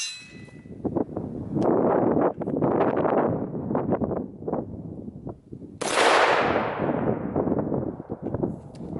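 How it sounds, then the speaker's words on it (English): A .308 rifle fires once outdoors, a sharp loud crack with a long rolling echo, preceded by windy, clattering rustle from the microphone. "We're gonna hit it with 308 again"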